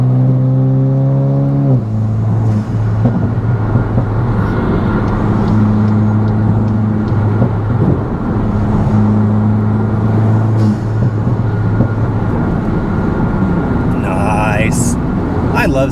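A 2023 MK8 Volkswagen GTI hatchback engine drones steadily as the car pulls along a road in traffic, its low engine tones shifting pitch with gear changes, loud and close under continuous road and wind noise.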